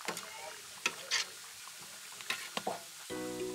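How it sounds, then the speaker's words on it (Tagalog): Raw sliced ingredients being stirred as they sauté in a pan for a Cebuano soup dish. Steady sizzling frying runs throughout with scattered scraping stir strokes, and a brief sustained tonal sound closes it. "Hiniwa-hiwa at saka iginisa. Medyo mahirap haluin kasi hilaw pa."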